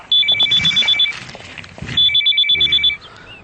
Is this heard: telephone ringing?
yes